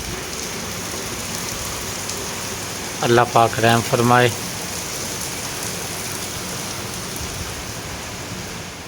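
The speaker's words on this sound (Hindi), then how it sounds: "रात का टाइम है जी, तूफ़ानी बारिश हो रही है" Steady heavy rain from a night storm hisses throughout, with someone briefly speaking over it partway through.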